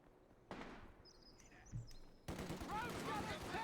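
Game gunfire in a Company of Heroes 2 infantry skirmish between pioneers and a rifle squad, with scattered rifle shots and rattling bursts that thicken into dense firing toward the end, quiet and distant.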